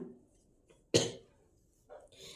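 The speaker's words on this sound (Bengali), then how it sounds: "আমার কাশি হচ্ছে, তোমরা কিছু মনে করো না, কথা বলতে বলতে একটু কাশিটা হয়ে যাচ্ছে।" A person who says they have a cough gives a single short, sharp cough near the microphone during an otherwise quiet pause. Faint room sound surrounds it, and a little breathy noise comes at the end.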